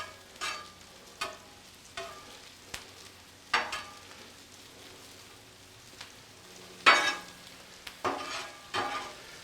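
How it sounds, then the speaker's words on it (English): Jalapenos sizzling on a Blackstone flat-top griddle under a steady soft frying hiss, with several scraping stirs of a spatula at irregular intervals, close by. "Move my jalapenos, stir them up a little bit."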